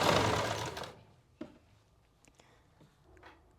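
A sewing machine runs in one steady, loud burst of stitching along a neck patti for about a second, then stops. A few soft clicks and faint handling sounds follow.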